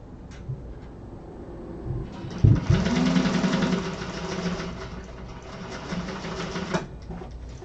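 A sewing machine stitches the side panel of an Aster bag, a close, steady mechanical whir with rapid needle chatter that starts after a few handling clunks and runs on to the end.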